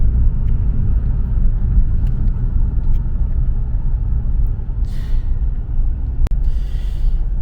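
Porsche 996 Carrera idling and rolling slowly while parking, a steady low engine rumble with faint road noise, loud and continuous with a brief click near the end.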